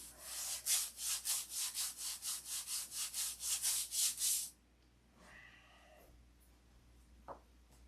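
Rhythmic back-and-forth sanding strokes, about fifteen in steady succession and fairly loud, then stopping, followed by quiet with a few faint shuffles and a light tap.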